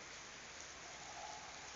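Steady rain hisses evenly during cold, windy late-winter weather in Florianópolis, Brazil, a soft, continuous wash with no distinct drops or thunder and no voices.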